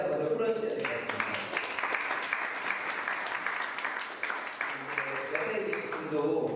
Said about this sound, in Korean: 한번 박수로 한번 긴장 먼저 풀어주셔야 될 것 같습니다